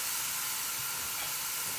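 American goulash cooking in a pot gives off a steady, close sizzling hiss with faint low bubbling beneath, continuous and alone without voices.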